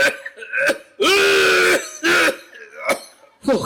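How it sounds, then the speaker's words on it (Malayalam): A person coughs and clears their throat in several loud, harsh bursts, separated by short pauses, close to the listener. "ഓ കഷ്ടം, എന്നാ ചുമയായത്."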